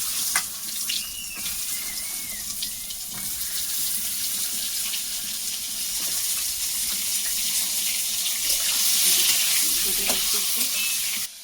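Pointed gourd pieces fry in hot oil in a pan for a Bengali prawn dish, giving a bright, continuous sizzle that swells slightly over time, with occasional stirring scrapes up close.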